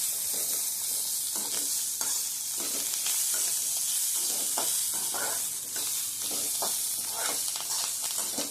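Sliced onions with coriander leaves sauté in an oiled pan for a chutney, giving a steady close sizzle broken by repeated scraping stirs of a spoon, with no talking.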